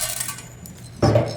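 About a gram of peppercorns drops into hot oil in a kadai for a drumstick dal kulambu, landing as a short, bright rattling clatter after a near-quiet pause.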